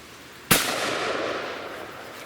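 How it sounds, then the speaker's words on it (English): A 12 gauge shotgun loaded with 9 pellet 00 buckshot fires once outdoors at a ballistic chicken target on a table 23 yards away: one sudden, loud, sharp blast followed by a long, fading tail, with no talking. "I got some 9 pellet double-op buckshot, same shotgun."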